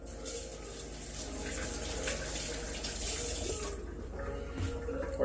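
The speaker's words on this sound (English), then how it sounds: "Now I will wash my hands here in a second" Hands being washed under a running tap, a steady close splash and hiss of water hitting a sink, fairly quiet and continuous with slight changes as the hands move.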